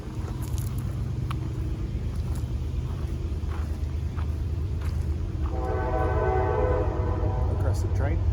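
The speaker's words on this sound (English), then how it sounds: "Aggressive train." A train rolls past behind a yard that has been dug and levelled with a Bobcat, its horn blaring in a loud sustained blast through the second half over steady rumbling rail noise.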